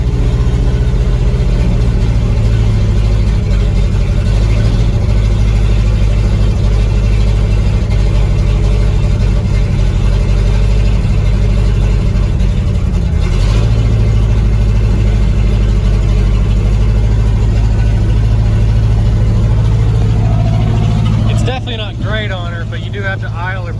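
Engine of a 1966 Ford fire truck idling high because it won't stay running otherwise, a loud, steady, close rumble that holds for over twenty seconds before dropping away near the end.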